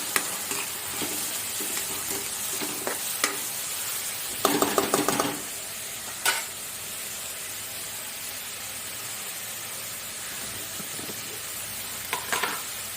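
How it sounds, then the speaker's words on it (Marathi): Chopped onion and tomato for egg bhurji sizzling in a pan, a steady hiss throughout with scattered spoon scrapes and knocks and a louder clatter of stirring midway. "कांदा बऱ्यापैकी भाजलेला आहे तर मी आता टॉमॅटो टाकते"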